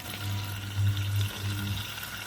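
Pork trotters with honey and soy sauce fry in a pan, giving a soft, even sizzle over a low steady hum.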